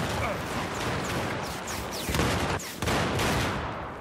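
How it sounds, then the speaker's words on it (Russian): Bursts of gunfire crackle in a Battlefield 4 match, rapid dense shots layered with heavier impacts, continuous and loud with a voice chattering faintly underneath. "Выстрел!"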